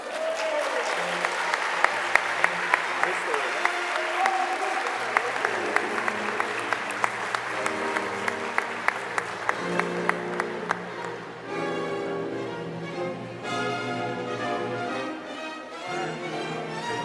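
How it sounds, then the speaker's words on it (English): Sustained applause from a crowd at an 11th-grade graduation ceremony, dense steady clapping that fills the room, with music swelling underneath as the clapping continues. "We invite you all to give them a well-deserved round of applause"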